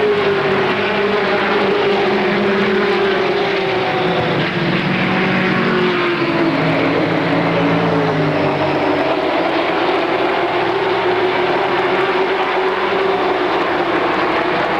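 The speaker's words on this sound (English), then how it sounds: "On the restart, Bahena joins the field. We're racing" Race cars run at Motordrome Speedway at a four-division race night in 1994. Their engines blend into a steady, loud, droning roar that rises and falls in pitch as the field passes, with no talk over it.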